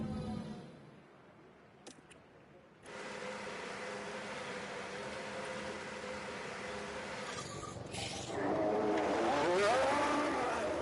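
F1 cars in the F1 Manager 24 racing game pull out onto the track, a steady engine drone that swells louder near the end as the cars accelerate away.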